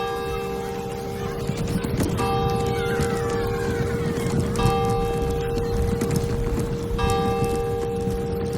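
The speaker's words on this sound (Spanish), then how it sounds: "Y la campana, obviamente, de fondo." Church bell in the village of Rupit ringing in the background, its steady tones sustained throughout amid ambient outdoor noise, with animal calls that may be a cat meowing faintly in the mix.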